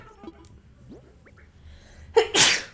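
A person sneezes once, close and fairly loud, with a short sharp intake and then an explosive burst, after quiet background sounds from a video game.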